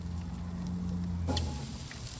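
Onions set on a barbecue fire during a jerk chicken cook, giving a steady soft sizzle with a low hum underneath and a brief sharper crackle partway through.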